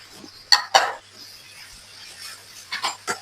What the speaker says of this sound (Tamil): சேர்த்து நல்லா கலந்து விட்டு கொள்ளுவேன்